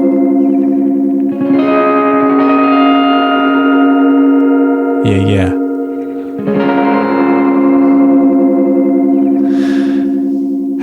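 Guitar run through the 'wide and weird' echo amp preset in Ableton Live, heard alone without a beat: sustained chorused, distorted tones with wide echo and reverb, a brief sharp burst midway, then a shimmering tail. One short spoken word.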